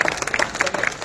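Dense crowd clapping at a political rally in Ramgarh Shekhawati for a Jhunjhunu Lok Sabha candidate, a steady loud patter of many hands filling the whole short stretch.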